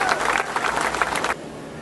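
A crowd of people applauds the mayor at a public event in Oslo, with dense, lively clapping for just over a second before it cuts off abruptly.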